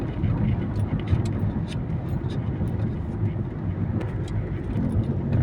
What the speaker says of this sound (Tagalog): grabe po talaga ang traffic po dito sa